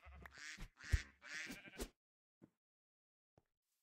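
Sheep bleating in the Minecraft video game, a few short bleats close and clear in quick succession, then two faint isolated blips after a pause.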